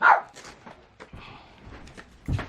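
A dog gives one sharp bark at the start, then quieter snuffling and movement, and another short yelp near the end.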